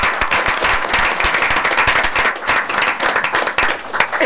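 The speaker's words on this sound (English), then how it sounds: "That's a clap." A board meeting room fills with loud, dense clapping from a group of attendees, rapid overlapping hand claps sustained across the whole stretch with no talk over them.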